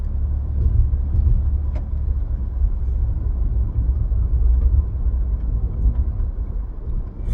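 Steady low rumble of a car being driven along a road, continuous engine and road noise close up with no talking.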